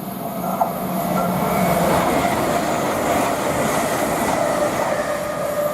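A Class 805 train bound for Chester passes on the West Coast Main Line at Tamworth: a steady, loud, close rumble with rail noise that holds evenly for about six seconds, with no talk.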